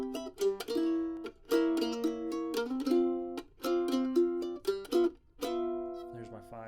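A mandolin strums chords moving from the one chord to a sharp-one diminished chord, with bright ringing strums in a steady pattern and brief breaks between them, heard close and unaccompanied.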